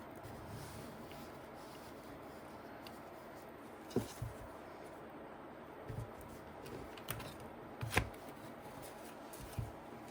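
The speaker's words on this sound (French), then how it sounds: "Alors, on remonte un peu les cartes." Playing cards being gathered and shuffled at a table, soft riffling and rubbing under a quiet room hum, with a few sharper taps and slaps of the deck spaced out over the stretch.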